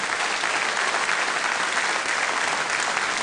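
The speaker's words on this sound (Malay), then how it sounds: "kita berikan sekalung puji dan tepukan" Steady, dense applause from a large audience at a government annual report event, clapping for a school principal, teachers and students, continuous and even throughout.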